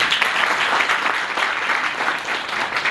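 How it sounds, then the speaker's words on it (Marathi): Steady, dense applause from an audience at a college road-safety awareness event, clapping for the teachers; continuous and even throughout with no talk over it. "त्यांच्यासाठी टाळ्या कोण वाजवतात?"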